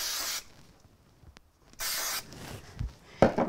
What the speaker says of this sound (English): I'm going to use a little bit of spray mount on it.